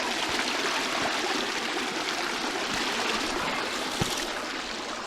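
Water from a stream in Ashes Hollow, Shropshire rushes and trickles steadily over stones, a constant close-up flow with a few small splashes and no voices.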